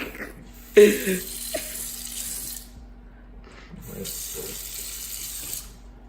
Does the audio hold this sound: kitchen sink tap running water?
yes